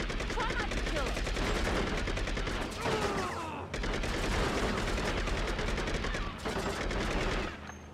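Sustained loud gunfire from a gun in the video game True Crime New York, with dense rapid shots running almost continuously and brief pauses.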